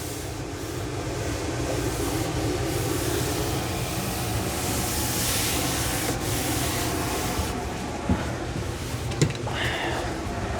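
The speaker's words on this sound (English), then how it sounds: "I'm using my linoleum roller" A linoleum roller is pressed and rolled over laminate on a countertop inside a box van, making a continuous rough rubbing rumble over steady noise from a fan, with a couple of small knocks near the end.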